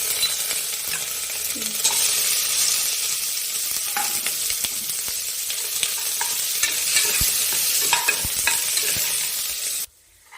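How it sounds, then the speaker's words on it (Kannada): Green chili and ginger fry in a pan with a steady, loud sizzle, broken by occasional stirring scrapes and light clinks, until the sizzle cuts off abruptly near the end. "ಈಗ ಇದು ಫ್ರೈ ಆಗ್ತಾ ಇದೆ"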